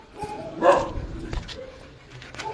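A dog barks and whimpers close by, a loud sharp yelp followed by softer whines and short yips.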